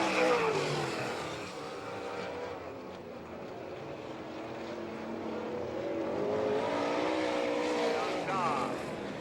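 Dirt track race cars on the Thunder Through the Plains All Stars and NCRA program at Doniphan, Nebraska, a distant roaring whine of engines rising and falling as the cars circle, under an announcer's voice.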